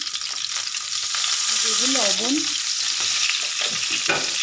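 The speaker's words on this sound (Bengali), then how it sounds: "তেল কড়াই গরম হয়ে গেছে আমি পটলটাকে ভেজে নেব" Sliced pointed gourd (potol) fries in hot oil in a kadai with a little turmeric, giving a steady, close sizzle with scraping stirs, while a voice speaks briefly over it.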